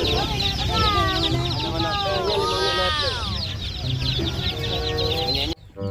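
Busy chicken sounds with repeated clucks and squawks, loud and close, overlapping continuously throughout before a brief drop at the end.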